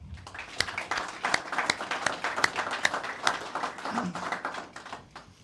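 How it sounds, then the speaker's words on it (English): Audience applause at a sports team event, a dense patter of many hands clapping steadily at moderate distance for several seconds. "So give yourselves a round of applause."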